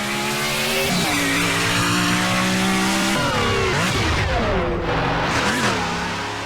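A loud racing car engine in the Roblox game Midnight Chasers roars continuously, its pitch rising and dropping through gear changes, with a hint of tire squeal.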